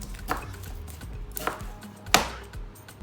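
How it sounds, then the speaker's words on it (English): Knife chopping onions on a board for homemade burgers, three sharp separate cuts spaced about a second apart over a quiet background, fairly close. "what we're gonna have to do first is chop your onions"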